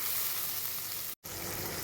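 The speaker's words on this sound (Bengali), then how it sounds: "এটা একসাথে করে দিয়ে এবার কষাতে হবে ভালো করে, যতক্ষণ না তেল ছাড়ে কষিয়ে যেতে হবে।" A masala of tomato, Kashmiri chilli and turmeric sautés in oil with an even, dense sizzle, broken once by a brief total dropout before the frying hiss resumes.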